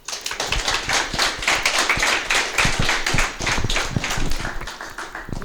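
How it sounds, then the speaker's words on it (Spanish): Warm applause from an audience at a talk welcoming a teacher, dense overlapping hand claps sustained steadily for several seconds, moderately close, with no speech. "Les pido que recibamos a la maestra con un caluroso aplauso."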